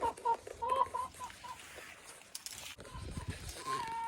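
A Silkie chicken clucks in a backyard garden, a few short close tonal calls at the start and again near the end, with quieter outdoor noise between.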